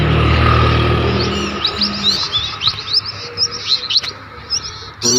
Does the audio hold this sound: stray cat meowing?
no